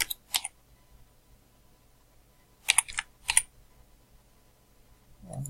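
Password typed on a computer keyboard: a few quick key taps, a pause, then another short cluster of clicks, close and fairly quiet.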